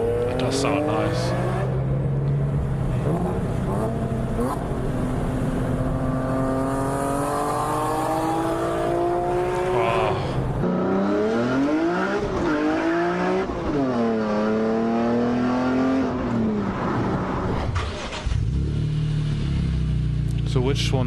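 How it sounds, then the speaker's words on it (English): Raspy revving from a BMW E46 M3's S54 engine through an Eisenmann Race exhaust, loud and near, with repeated rising and falling sweeps. The engine cuts off abruptly near the end. "Eisenman Race exhaust. That's a bit more. It's got that raspy sound."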